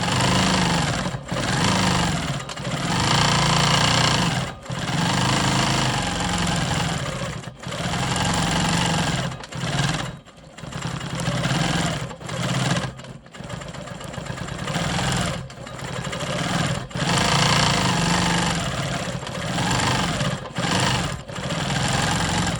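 A Quilt Maker Pro 20 quilting machine stitching swirls into a quilt block runs with a steady mechanical hum, stopping and restarting in short bursts with brief pauses between runs.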